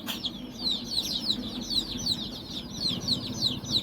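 Incubator-hatched chicks give rapid, high-pitched cheeps, packed close together and steady. The sound is fairly near, the cheeps repeating in a constant stream with no talking.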